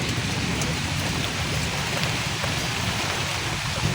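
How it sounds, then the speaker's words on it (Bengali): Heavy rain pours steadily during a violent spring storm in a rural village, a dense, loud, unbroken hiss of drops beating on surfaces that runs the whole time with no voices. "এরকম বৃষ্টি শুরু হয়ে গেছে"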